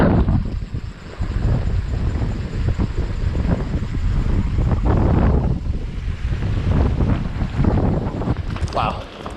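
Strong, gusting wind roars across a hidden mountain pond and batters the microphone in loud, sustained surges, with someone talking intermittently underneath.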